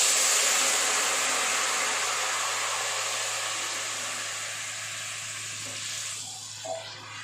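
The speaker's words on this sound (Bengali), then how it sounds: "কালো জিরেটা ভাজা ভাজা হয়ে গেছে, এবার ঝোলটা ঢেলে দেব" Curry gravy hits hot oil with fried black cumin seeds, setting off a loud broadband hiss and sizzle that gradually settles and fades, ending with a faint knock.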